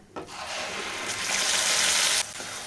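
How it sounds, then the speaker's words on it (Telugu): A blended onion and tomato paste hits hot oil after fried ginger-garlic paste for a fish curry, bursting into a loud, steady hiss that swells, holds for about two seconds, then drops back to a softer sizzle. "ఇప్పుడు మిక్సీలో పట్టుకున్న టమోటా ఆనియన్ పేస్ట్ అయితే వేసేద్దాం"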